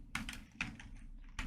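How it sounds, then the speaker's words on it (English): Quick keystrokes on a computer keyboard, three short clusters of close, crisp clicks with brief gaps, fairly quiet and without talk. "in the end of this address, I'm going to type developer plan."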